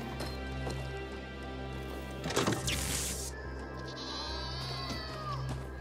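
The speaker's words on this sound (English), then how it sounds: "You milk the goat." A goat bleats in Dying Light 2, one short nasal call among steady game ambience, with footsteps and a brief rustling burst partway through.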